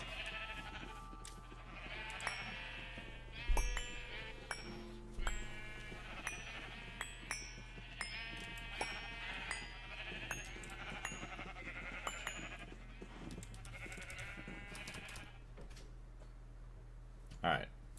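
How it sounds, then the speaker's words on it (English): Sheep in the Minecraft modpack GTNH bleat over and over in a dense, overlapping chorus, steady and moderately loud throughout, with occasional soft clicks of game actions. "Sorry about the sheep being loud."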